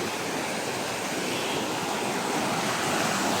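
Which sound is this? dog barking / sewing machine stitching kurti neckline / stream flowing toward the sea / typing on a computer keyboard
stream flowing toward the sea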